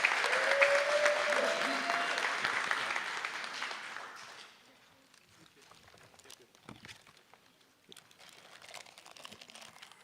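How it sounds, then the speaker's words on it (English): An audience applauds the contestants at a Martin Luther King Jr. oratorical competition: dense, loud clapping for about four seconds, then it drops away to quieter, scattered room noise. "we're gonna give all of our contestants another applause"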